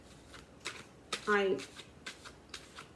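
Quick papery riffling of tarot cards being shuffled, a few short bursts with a brief spoken word nearby.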